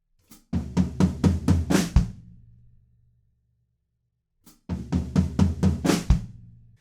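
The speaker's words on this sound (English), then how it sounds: "we have a build up on the floor tom and top tom that sounds like this." Two rapid drum fills of quick descending hits on the top tom and floor tom, each ending with a ringing low decay, separated by a pause of silence.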